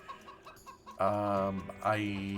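Hens cluck softly in a hen house in the video game Farming Simulator 2013, then a louder, drawn-out squawking cackle rises twice, close and clear with a steady hum beneath.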